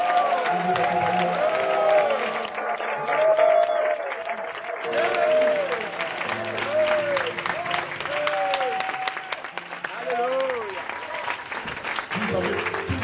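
A church congregation at a pastor's tenth anniversary service applauds continuously, steady clapping filling the room while a voice chants and sings over the crowd throughout.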